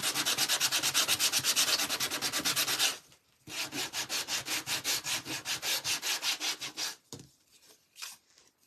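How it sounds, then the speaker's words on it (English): Sandpaper or a nail file is rubbed lightly over a surface in quick, steady back-and-forth strokes, close and rhythmic, pausing briefly before resuming and then tapering into a few last scrapes. "You can either take a piece of sandpaper or a nail file or something and just lightly sand over the top"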